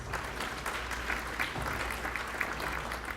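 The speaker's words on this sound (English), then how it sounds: "I request you to give her a big round of applause." Audience applause at a live awards event, a dense, steady patter of many hands clapping close by that holds for the whole stretch without voices.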